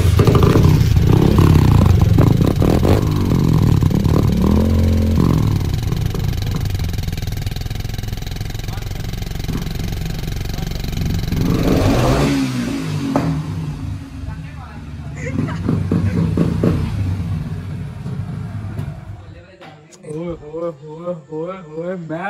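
A Bullet motorcycle is kick-started and its engine thumps and revs, loud and close at first, with people talking around it before the engine note fades and voices take over near the end.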